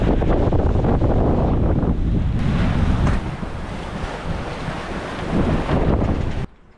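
A sailboat runs through a squall off Guadeloupe, loud gusting wind buffeting the microphone over crashing waves and surf, a continuous roar that eases slightly midway before cutting off abruptly.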